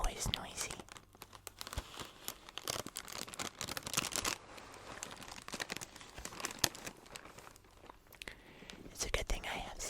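Cereal packaging pulled apart by hand gives dense crinkling and tearing noises in irregular bursts, close and fairly loud, with brief sharper snaps, and quiet breathy vocal sounds run underneath.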